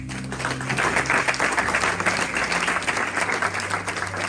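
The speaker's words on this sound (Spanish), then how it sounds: "Eso merece un aplauso" A church congregation applauds together during a sermon, a steady wash of clapping from many hands that holds at an even level throughout without anyone speaking.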